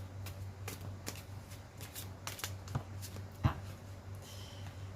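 Oracle cards being shuffled by hand, a series of soft quick riffling flicks and taps with one sharper snap, quiet and near, no talking.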